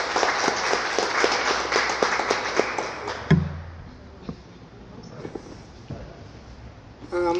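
Audience applause at a conference talk on the moral discourse of the border, a short burst of clapping that quickly fades, followed by a quieter room with scattered noises and a few sharp knocks near the end.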